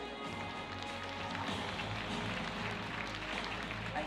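Applause from the crowd at the Estonian rhythmic gymnastics championships, during an awards ceremony for the clubs and ribbon finals. It is a steady, dense wash of clapping that continues for several seconds without pause.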